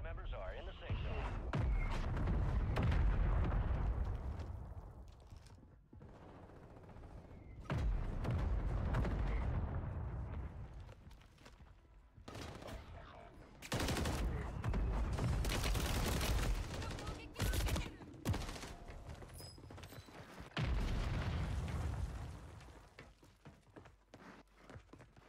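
Call of Duty Warzone on Rebirth Island: loud bursts of explosions and gunfire come in several separate waves with quieter gaps between them, while a voice talks over parts of the action.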